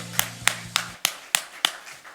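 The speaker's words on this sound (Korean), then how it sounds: "하나님께 박수를" Congregation clapping at an Easter resurrection church service, six distinct claps in a slow, steady rhythm, fairly close and clear, with a faint sustained tone fading under the first few.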